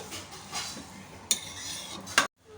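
Cooked lentils and vegetables being stirred in a cooking pot, a few soft scraping swishes with two sharper clinks of the spoon against the metal rim, close and alone, ending in a brief silence.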